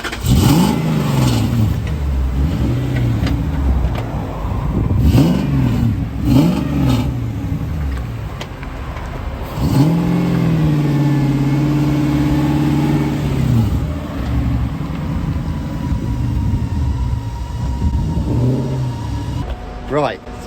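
A Volvo fitted with a V8 3UZ engine revs on dyno rollers at a workshop, with repeated loud rising and falling rev sweeps and one longer sustained pull, heard close up while people talk.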